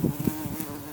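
A bee buzzes close by outdoors in New Zealand's Golden Bay, a loud near drone with a few short pulsing swells as it moves about.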